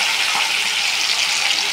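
Tomato goes into a pan of fried five-spice and chillies, setting off a loud, steady hissing sizzle that carries on evenly throughout.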